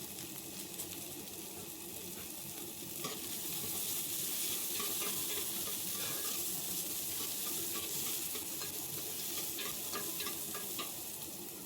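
Handful of small shallots and a sprig of curry leaves frying in hot oil for a drumstick-flower stir-fry, a steady close sizzle that swells after a few seconds, with faint stirring clicks and no voices.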